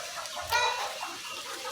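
Poultry chickens on a farm cluck in a dense, continuous chorus, with one louder cluck near the start standing out over the busy flock noise.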